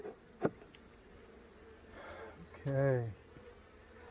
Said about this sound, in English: Look at all of those bees.